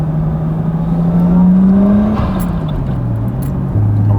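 Nissan Skyline R34 GTT engine droning steadily while driving in winter traffic in Sydney, loud and close from inside the car, its pitch rising slowly, dipping, then settling lower as the revs change.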